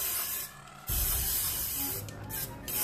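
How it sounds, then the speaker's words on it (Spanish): A can of pearl-effect aerosol spray paint hisses while coating decorations for Halloween chocolate cupcakes, with a steady close spray that breaks off briefly and then resumes in short bursts. "este lo he pintado un poquito con perlado, con aerosol"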